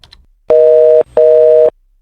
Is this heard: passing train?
no